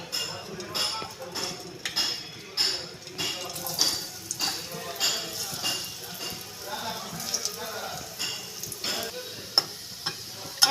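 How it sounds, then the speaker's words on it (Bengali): Chopped onion and garlic fry in hot oil in a wok, a steady crackling sizzle with scraping stirs and small clicks of a utensil, heard up close beneath some faint background voice. "আমি পেঁয়াজ রসুনটা ভেজে নেব"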